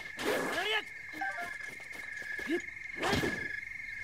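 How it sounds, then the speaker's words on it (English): Loud chirping insects in the video game Zelda: Breath of the Wild, set in Hyrule, sound alongside bursts of nearby voice-like calls and croaks across the short stretch. "Some loud-ass crickets they have here in Hyrule."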